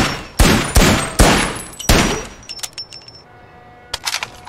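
Gunfire in a zombie shooter game, with four loud, close single shots about half a second apart, then a burst of quicker, lighter shots and a final short volley, each ending in a ringing tail.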